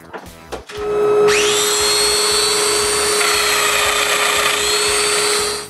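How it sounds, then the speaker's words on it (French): A Domino joiner set in a jig cuts mortises into wooden uprights, starting after a few brief clunks and spinning up to a loud, steady high-pitched whine that holds close and continuous to the end. "je peux percer tous les trous, tous les montants à la même place rapidement"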